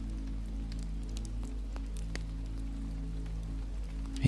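Steady rain falls on the leaves of trees around a cabin, with water running through the gutters, forming a continuous, even wash of patter with no voices.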